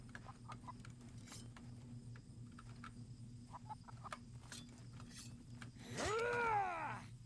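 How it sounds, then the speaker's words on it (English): A chicken clucks in the video game Nested Lands as a few short, scattered calls over a steady low game hum, ending in a louder rising and falling cry near the end. "See, I hear a chicken, and I want to know where that chicken is at."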